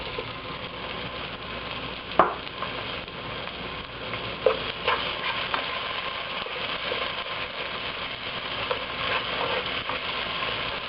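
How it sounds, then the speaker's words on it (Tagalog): Onions soften in a pan for pineapple chicken, giving off a low, even sizzle punctuated by a few light stirring clicks, with no talking. "And lulutuin lang natin ito hanggang sa lumambot na yung onions."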